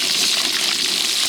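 Whole bay leaf, cumin, dried chili and garlic hit hot oil for a loud, continuous hissing sizzle, short and even throughout.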